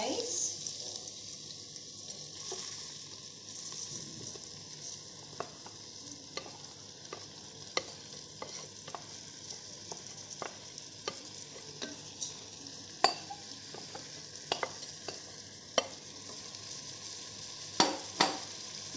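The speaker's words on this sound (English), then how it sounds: "Give it a good stir." Rice stirred in a frying pan with chicken stock and salt, a steady low sizzle with repeated sharp scrapes and clicks of the utensil across the pan, moderately close, with no talk.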